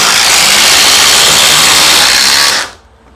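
A DeWalt DCF860 and a Milwaukee Gen 3 impact driver on a 5 amp hour battery at speed 3 drive lag screws, making a loud, harsh, continuous hammering whine that cuts off abruptly near the end.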